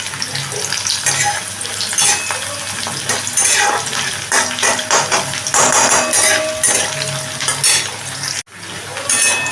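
Sliced onions hit hot oil tempered with whole cumin and a dried red chilli, giving a loud, fluctuating sizzle with bursts of hissing and clinks of a utensil against the pan.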